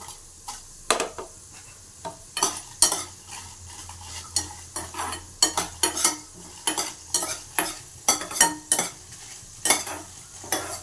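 Short dry red chillies tossed in a pan with coriander seeds, a soft sizzle beneath a steady, rhythmic series of sharp spatula scrapes and clacks repeating roughly every half second.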